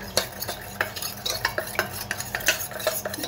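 A spoon stirs a spoonful of flour into a little water to thicken a rohu fish curry, giving a quick run of light, rhythmic clinks against the bowl, close and clear with no talking.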